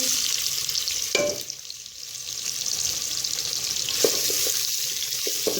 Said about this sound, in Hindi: अब हम इसके अंदर प्याज ऐड करेंगे।